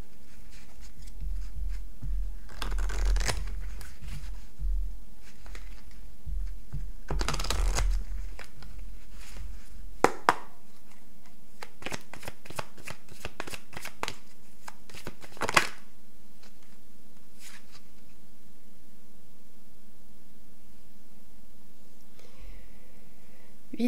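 Tarot cards being shuffled in two loud bursts of riffling early on, then scattered lighter card flicks and taps against a faint steady hum, with no talk.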